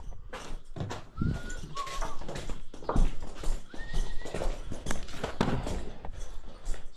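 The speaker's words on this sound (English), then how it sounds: "and Smarty's the other horse that I ride" Horses on a ranch make whinnies and snorts close by, with movement and shuffling throughout and a couple of short squealing calls in the middle.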